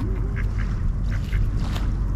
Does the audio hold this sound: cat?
no